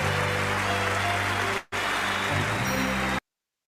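An Oscars ceremony audience applauds in a dense, steady wash of clapping that cuts out for a moment, resumes, and then stops abruptly.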